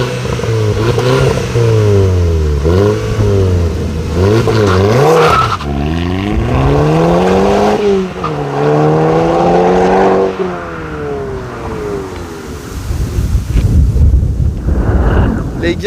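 A car, fitted with non-original mirrors, revs hard through repeated acceleration runs, the engine note climbing and dropping through gear changes, loud and close, with heavy wind roar and brief talk over it.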